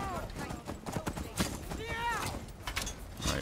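Horse hooves clip-clop in a steady rhythm, close by, in the video game Skyrim, mixed with a brief voice and other game sounds.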